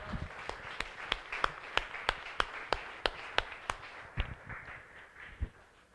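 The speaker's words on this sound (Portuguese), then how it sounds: "Palmas ao Rei dos Reis" A church congregation claps in unison in praise of Jesus Christ, giving a steady rhythmic beat of sharp, evenly spaced claps. The clapping slows and grows looser toward the end, fairly distant and with no talking.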